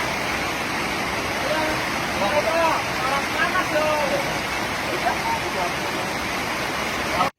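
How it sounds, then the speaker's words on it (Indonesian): Heavy rain pours down in a steady, dense roar that fills the whole stretch without letup, with faint voices buried under the noise. "bukannya hujannya reda tapi makin deras"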